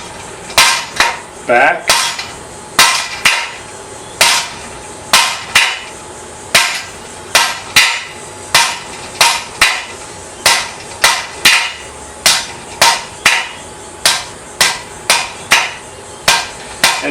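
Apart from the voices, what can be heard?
blacksmith hammering a taper on metal bar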